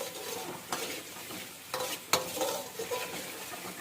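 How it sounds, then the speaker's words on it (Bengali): Poppy seeds fry in a pan with salt while a utensil stirs them, giving a soft continuous sizzle broken by a few sharper scraping strokes against the pan. "এবার পোস্তটা দিয়ে সামান্য একটু ভেজে নেবো।"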